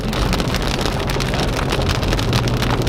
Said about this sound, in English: this is some pretty solid rain